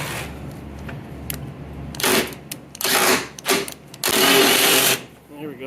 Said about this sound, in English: I'll run that bolt in and out, in and out, in and out, because it's very rusty